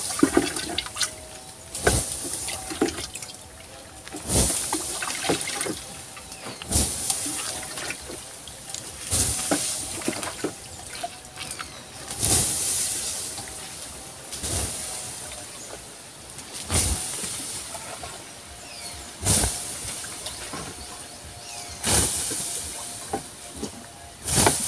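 Water poured onto burning coconut shell charcoal sets off loud hissing steam, coming in repeated surging bursts every couple of seconds and rushing on steadily between them, with no talking.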